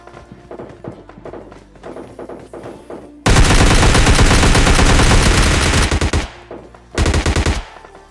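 Heavy automatic gunfire from a mobile battle-royale shooter, FAU-G or PUBG Mobile Lite, first as scattered distant shots and thuds, then a loud sustained burst of about three seconds and a shorter final burst, with no talk.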